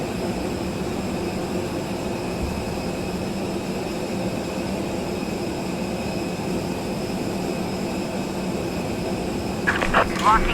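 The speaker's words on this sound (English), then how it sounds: "we'll get these engines started" Airbus A330neo jet engines spooling up in a flight simulator at Taipei, a steady low turbine drone and whine with a faint rise and clicks near the end, under occasional talk.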